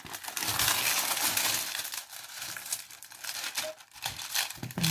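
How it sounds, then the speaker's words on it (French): Transparent plastic film pressed and smoothed by hand onto a canvas, giving a steady close crinkling and crackling rustle that carries on for several seconds with small louder crackles near the end. "bien coller le film transparent sur la toile, partout"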